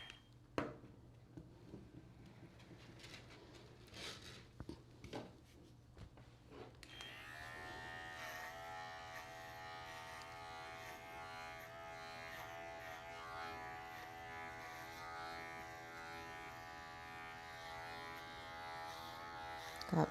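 Electric clippers shave across a dog's back at a grooming salon in Tampa, Florida, with a steady close buzz that starts partway through and runs on unbroken after some earlier handling noise.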